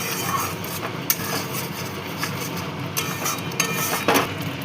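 Green chillies sautéed in a pan for a rui fish curry, scraping and clinking of a metal spatula over a constant background sizzle, with a few sharper knocks; no speech.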